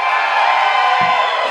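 Loud audience at an open stage show cheering and whooping together, a dense sustained roar of many voices filling the room, steady throughout with no pause.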